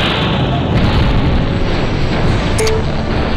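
Enemy vehicle explosion in the MechCommander video game, a loud sustained rumbling boom that fills the whole clip and fades slightly toward the end, with a brief electronic blip near the close.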